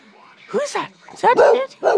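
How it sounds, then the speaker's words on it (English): A pet dog close by gives short yips and barks in quick bursts, mixed with whimpery sounds, while someone talks to it and coaxes it to greet. "That's my dog"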